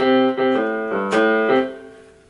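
A few sustained keyboard notes played in sequence, the first struck with extra emphasis, ringing clearly and fading at the end.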